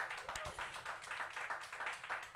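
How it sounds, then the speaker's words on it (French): Faint, distant clapping from an evening concert audience honouring a musician, a thin steady patter of many hands with little else audible. "Je veux parler de monsieur Jean Tamas, qu'on applaudit bien fort s'il vous plaît,"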